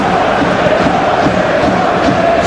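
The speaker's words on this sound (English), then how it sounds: "that hasn't affected the crowd, who are here in good number and indeed in good voice" Dense, steady roar of a large football crowd in a stadium before a Hoffenheim versus Norwich City friendly, a continuous wash of voices and cheering with no single standout shout.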